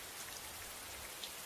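Steady rain falls as a soft, even hiss with faint scattered drops, quiet and continuous with no voices.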